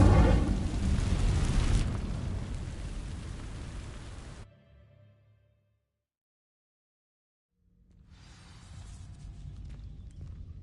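In Hogwarts Legacy, an Incendio fire spell is cast as a loud roaring burst of flame that fades out over a few seconds, then silence, followed by quieter crackling game ambience.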